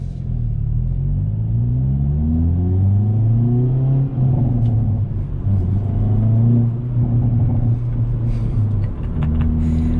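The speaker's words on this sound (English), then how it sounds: "Pops and crackles from the exhaust." A facelifted 2021 Hyundai Veloster N engine revs and rumbles up through the gears close by at night, with sharp crackles and pops from the exhaust scattered over the drone.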